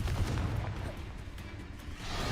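A Confringo spell explosion from the Hogwarts Legacy video game sounds as a heavy, low boom that rumbles and fades over a couple of seconds, then swells again at the end, dense and loud without clear speech.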